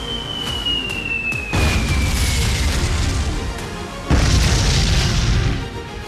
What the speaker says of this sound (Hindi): बम बारूद के धमाकों की आवाज आ रही है।